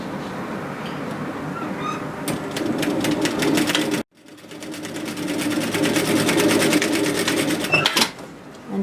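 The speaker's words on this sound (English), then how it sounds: "we're going to open that seam up and sew from one side to the other, also at 1 centimeter." A sewing machine stitches a 1 cm seam on a fabric tissue box cover, running in two steady, loud mechanical bursts separated by a brief pause.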